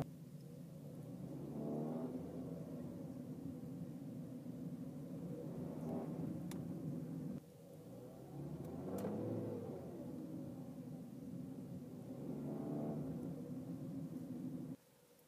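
A 2013 Kia Soul makes a low brrr rumble that swells and fades about four times over a continuous faint engine drone.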